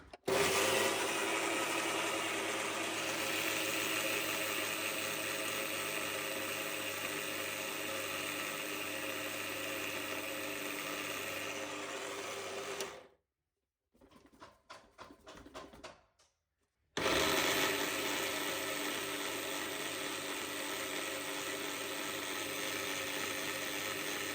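Flax seeds being ground in an electric grinder, a loud continuous whirring grind that runs for about thirteen seconds, stops briefly with a few small rattles, then resumes at full strength until the end.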